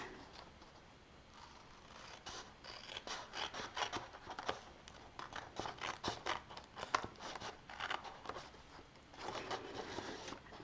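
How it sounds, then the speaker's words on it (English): Quiet, close snipping and crisp cutting sounds of fussy-cut scissors cutting paper for collage come in irregular bursts, with some paper rustling in between. "These are really good scissors"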